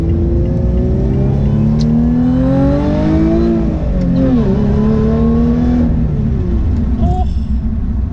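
Lotus Evora 400 engine heard loud from inside the cabin, a constant droning rumble whose pitch rises steadily under acceleration, dips around a gear change, then climbs again.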